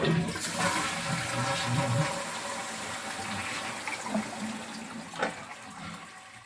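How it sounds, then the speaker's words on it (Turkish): Toilet cistern emptying as it is flushed, with a steady rush of water draining down over several seconds and a few gurgles near the end, close and fairly loud with no talk. "Klozet takımını boşaltalım."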